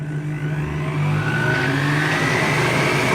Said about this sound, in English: You start more slowly, it puts less pressure on the motor so it lasts longer, but also gets the food moving inside as the blades spin and speed up.